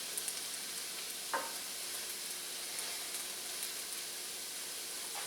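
Onion and red pepper fry in oil in a wide paella pan, giving a quiet, even hiss of sizzling with a faint stirring scrape now and then.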